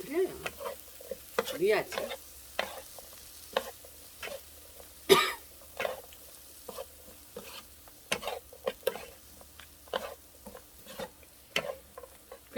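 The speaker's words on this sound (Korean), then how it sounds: "불은 약한 불. 이 상태에서 볶아주세요." Perilla leaf shoots being stir-fried over low heat, with quiet sizzling and repeated spatula scrapes and clinks against the pan, a cough partway through, and one brief spoken phrase.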